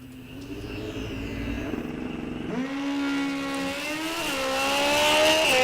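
A 1996 Kawasaki ZX6 motorcycle at a drag race idles low, then revs sharply and climbs steadily in pitch as it pulls away, loud and up close.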